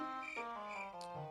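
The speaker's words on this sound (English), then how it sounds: "No, I have a cricket sound." A cricket chirping sound effect plays briefly and faintly, a short run of thin, steady chirps with nothing else around it.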